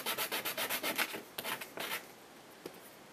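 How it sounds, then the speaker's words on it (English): Sandpaper rubbing back and forth over the rough cut bottom of a handmade 3x3x5 puzzle piece, about a dozen close, even strokes in steady rhythm, then a few slower, irregular scrapes. "just sand down this bottom portion right here that we cut"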